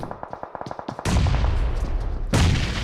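A grenade explodes in a PUBG Mobile custom-room match: a burst of loud broadband blast and rumble after a run of rapid gunshot-like pops, with a second blast following, all close and without talk.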